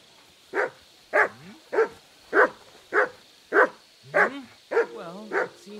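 A dog in Kingdom Come: Deliverance II barks nine times in an even, steady rhythm, close and clear, with a faint whimper at the end.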